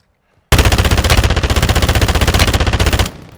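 A new Season 5 assault rifle in Call of Duty Warzone 2.0 fires one loud, sustained automatic burst lasting about two and a half seconds, rapid evenly spaced shots close up, then a brief tail.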